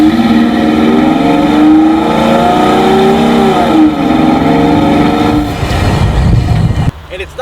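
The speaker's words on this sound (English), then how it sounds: "you can hear it just sucking the air into the motor." A stock VG engine in a Nissan Xterra fitted with a new snorkel roars loudly up close, a sustained intake whoosh and rising hum that shifts pitch mid-way before dropping off near the end.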